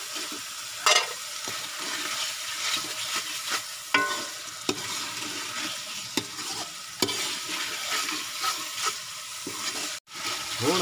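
Tomatoes and green garlic sizzle steadily in a hot pan, with occasional clinks and scrapes of a spoon stirring, close and continuous with no talk.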